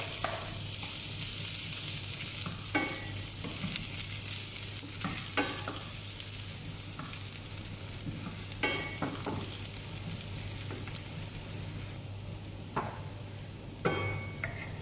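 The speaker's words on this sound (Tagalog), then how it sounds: "mainit na yung kawali natin. So, ayan, lagyan natin yung ating garlic" Garlic frying in a little olive oil in a hot pan, a steady soft sizzle with intermittent stirring clinks and scrapes throughout.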